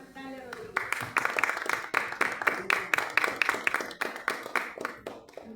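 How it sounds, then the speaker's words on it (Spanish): An audience applauds the author at a book presentation. Distinct, fairly regular claps repeat for several seconds with voices mixed in. "les pido un fuerte aplauso para nuestra autora, la doctora Dalia Rodríguez"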